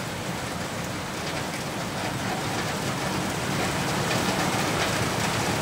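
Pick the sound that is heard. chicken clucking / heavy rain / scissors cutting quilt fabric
heavy rain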